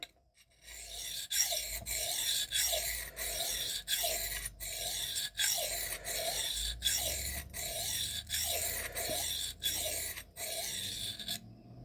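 Knife blades of M398, Maxamet and MagnaCut steel drawn across a sharpening stone with light pressure, a steady run of raspy strokes repeating about every half second, close and alone.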